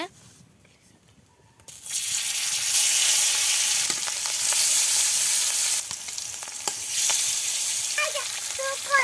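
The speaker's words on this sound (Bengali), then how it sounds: "মাছ ভাজি করার জন্য এখানে তেল দিয়ে দিয়েছে আর ওখানে মাছগুলো মেখে রেখেছে" Marinated tilapia pieces drop into hot oil, which breaks into a loud, steady sizzle and keeps frying close by, with brief scraping and a faint voice near the end.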